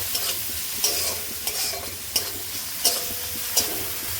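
Cumin and turmeric powder frying with onion in a pan for palak paneer, a steady sizzle broken by regular spoon scrapes and taps roughly every second, close and clear with no talk.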